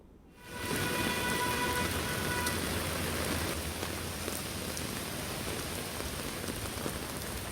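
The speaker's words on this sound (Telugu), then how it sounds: "కూకట్పల్లిలో భారీ వాన పడుతుంది" Heavy rain pours down in Hyderabad, a steady, dense roar of drops on surfaces that rises quickly at the start and then holds loud and unbroken throughout.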